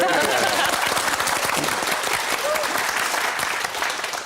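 Dense, sustained clapping from a television studio audience, filling the whole stretch at an even level with faint voices beneath.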